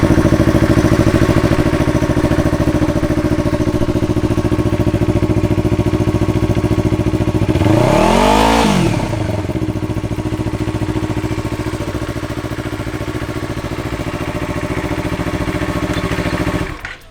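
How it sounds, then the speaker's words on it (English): A 2021 Yamaha MT-03 motorcycle with an aftermarket exhaust idles loudly and steadily up close. A single sharp rev rises and falls midway, and the engine settles back to idle before cutting off abruptly at the end. "how the beauty sounds like with the aftermarket exhaust"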